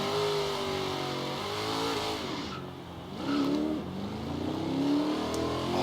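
A Chevrolet Nova's engine revs and pulls in the racing game Forza Horizon 3, a steady loud drone with rising and falling pitch as it accelerates and shifts, with no talking.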